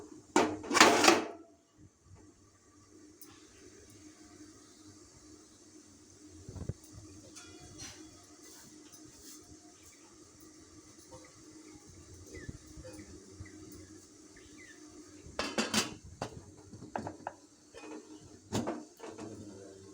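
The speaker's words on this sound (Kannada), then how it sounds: "ಇದನ್ನು ಇಡ್ಲಿ ಪಾತ್ರೆಯಲ್ಲಿ ಬೇಯಲಿಕ್ಕೆ ಇಡ್ತೀನಿ" A dish of milk pudding is set into a metal idli steamer over already heated water, with sparse metallic clanks and knocks early and again near the end over a quiet kitchen background.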